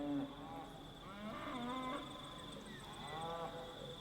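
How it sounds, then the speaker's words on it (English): Red deer stag roaring in a series of deep, drawn-out bellows with harmonic sweeps, moderately close, heard alone over a steady high background hiss. "that is a red deer roar"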